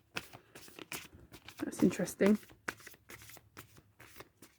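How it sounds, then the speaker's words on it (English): Tarot cards being shuffled by hand in quick riffling bursts, swelling loudest midway, with someone talking over the shuffling throughout. "I like to do a full shuffle"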